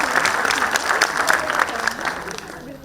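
An audience at a public meeting with EU official Josep Borrell bursts into sustained, lively applause. Many hands clap densely and loudly throughout.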